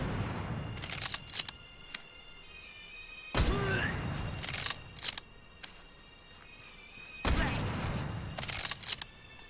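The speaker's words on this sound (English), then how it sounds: "Every shot with the K98K is perfectly accurate when you hold it two-handed" Several sharp, loud K98K bolt-action rifle shots in the VR shooter Medal of Honor: Above and Beyond, spaced a few seconds apart with mechanical bolt clicks between them and faint background sound.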